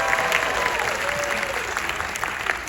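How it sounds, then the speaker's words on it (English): An audience claps for dancers at a Lennon and McCartney tribute show, with dense, sustained applause that holds steady throughout and crowd noise beneath it. "Give them a big round of applause"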